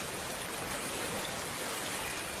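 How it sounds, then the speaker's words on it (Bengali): Steady, continuous rain pours over a river in a cartoon scene, a dense even hiss that holds constant throughout with no voices. "বৃষ্টি তো বেড়েই চলেছে"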